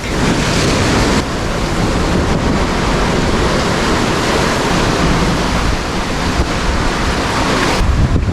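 Loud, continuous roar of surf breaking on the shore at Baruan Beach, Agno, Pangasinan, heavy and close, with wind buffeting the microphone throughout.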